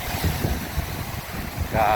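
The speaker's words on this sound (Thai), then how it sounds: "ลมนะพี่น้องเด้อลม" Wind at Sylvan Beach Park in La Porte, Texas: steady, broad blustery rushing against the microphone near a small bay, with people speaking quietly under it.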